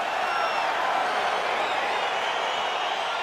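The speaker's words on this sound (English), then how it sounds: "Crowd getting excited as this fight gets underway" A large arena crowd roars steadily in EA Sports UFC 4 as a fight gets underway. The sustained wash of cheering comes with faint whoops, and there is no clear speech.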